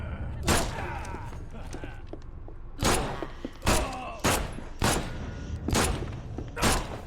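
Gunfire in a shootout from the video game The Sinking City: a single loud shot, then a close, rapid string of six sharp, booming gunshots spaced about half a second apart over a low background.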